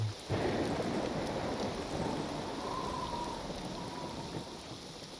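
Rain falls steadily in a Neverwinter Nights game scene, a dense close hiss under a deep rumble of thunder that swells near the start and slowly fades away, with no voices.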